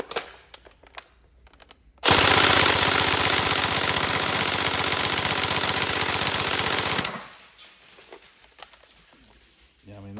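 A Tokyo Marui SCAR-H NGRS airsoft rifle fires one long full-auto burst lasting about five seconds. The rattle is loud, rapid and close. Quieter handling noise and faint voices come before and after the burst.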